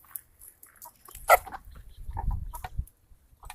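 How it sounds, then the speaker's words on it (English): Brief clucks and a short call from roosters attempting to crow ring out among scattered farmyard sounds, followed by low rustling and shuffling nearby. "Some of the roosters are making crowing noises and"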